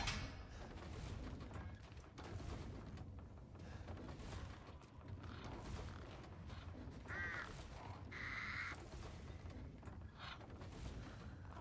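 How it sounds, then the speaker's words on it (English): Crows caw in the Resident Evil Village video game, harsh calls sounding several times over a dark, rumbling in-game ambience, moderately close with no talking. "Now, where the hell are these crows? I want to blast them and get some money."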